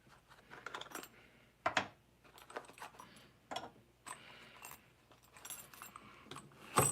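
Someone rummages through a pile of small metal ball bearings, producing a steady scatter of light metallic clinks and rattles with a few louder clustered jangles, close up and with no talking.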